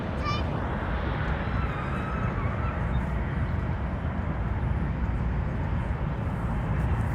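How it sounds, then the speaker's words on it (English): An Alaska Airlines Airbus A321 at Los Angeles International Airport, heard as a steady, broad roar of jet engine noise that stays constant throughout, with a faint whine near the start. "There is that beautiful Alaska A321."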